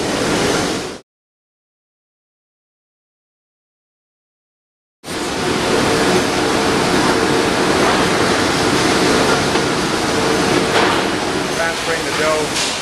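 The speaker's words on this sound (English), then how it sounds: "So here we've got all of the final ingredients put into the mixer with the sponge, and it'll sit in here and mix for a set period of time." An industrial bakery mixer churns bread dough made from a sponge and the final ingredients, a loud, dense, steady rushing roar that cuts out briefly into silence and then resumes unchanged.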